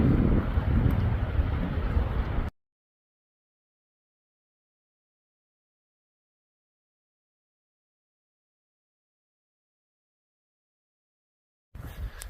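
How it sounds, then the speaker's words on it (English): Strong gusts batter the microphone beside Doubtful Lake in Washington, a loud, dense buffeting roar for about two and a half seconds, then near silence until a brief burst of wind returns at the very end. "I'm just getting pelted hard by the wind over here"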